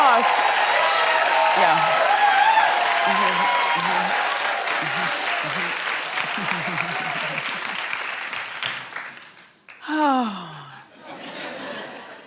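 A studio audience at a daytime talk show claps loudly and steadily for several seconds, then the applause fades. A voice, exclamations and laughter follow near the end.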